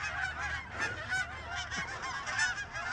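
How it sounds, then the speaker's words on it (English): A large flock of geese honks in a park, overlapping calls repeating steadily from close and farther off, loud and continuous with no talking. "there are so many geese right now"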